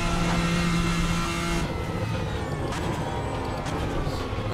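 A GT race car in Assetto Corsa on a modded fast circuit roars steadily at close range, engine tone holding high then dropping as it eases through an early warm-up lap, with faint talk beneath.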